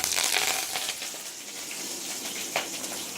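Curry leaves crackle and sizzle in hot oil with fennel, cardamom and cinnamon for a Madurai mutton kola urundai kulambu, a steady close-up fry hiss with a brief sharper spatter near the end.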